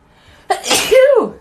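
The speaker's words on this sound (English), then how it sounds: "I'm going to sneeze again." A single loud, sharp sneeze bursts out abruptly and trails into a falling, voiced exhale, close to the microphone and heard alone during a live stream.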